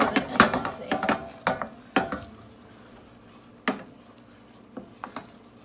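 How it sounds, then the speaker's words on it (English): Spoon scrapes and clacks against a pan as coconut milk and chili paste are stirred for beef Panang curry, a run of sharp close knocks early, then sparser taps over a faint sizzle. "You stir until you can see the coconut milk and chili paste."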